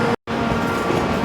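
Loud, steady rumbling roar of a new-model train passing close through a station, broadband rail noise filling the clip after a brief silent gap near the start.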